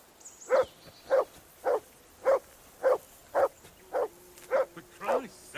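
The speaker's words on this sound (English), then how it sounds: "Call off that damn dog before he walks down the line" A dog barking in Kingdom Come: Deliverance II, nine evenly spaced sharp barks at a steady pace, fairly close, with a voice breaking in near the end.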